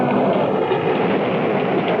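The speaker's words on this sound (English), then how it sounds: "Did you hear that? There's thunder." Thunder effect in an old radio drama, a continuous low, broad rumbling roar holding steady throughout without any voices over it.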